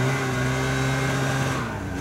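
A snowmobile engine revs hard as it is started and throttled in a garage, giving a steady, loud, close mechanical drone with strong harmonics that dips slightly near the end.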